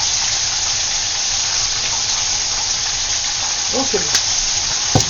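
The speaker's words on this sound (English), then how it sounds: "Now, I'm going to go ahead and stir that up some more because we just sauteing over here." Food sautés in a skillet with a steady, close sizzle. A few clinks and stirring sounds come near the end, and a voice speaks briefly.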